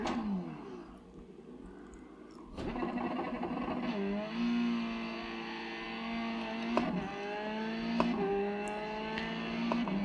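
A race car engine in the iRacing sim, played on a Simagic Alpha Mini formula wheel, revs up through the gears with rising whines and brief dips at each shift, steady and moderately loud with no talk.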